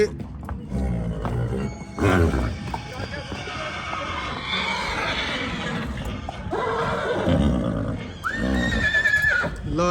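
A mare at a livestock sale neighs in a rising, shrill whinny near the end, with someone talking over much of the clip.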